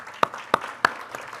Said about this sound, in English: just want to give them a round of applause for that